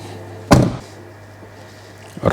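The door of a 2014 Ford SVT Raptor pickup shuts once with a single solid thunk, close and loud, followed by quiet cabin hum and a fainter knock near the end.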